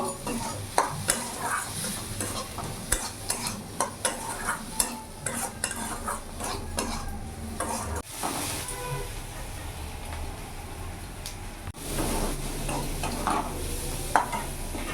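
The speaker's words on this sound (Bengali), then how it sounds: "এবার ভালো করে মিশিয়ে নেবো" Repeated scraping and clinking of a spoon stirring a dry spice mix with chili powder, a stuffing for fried bitter gourd, in a pan, with a steady sizzle underneath and irregular knocks against the metal.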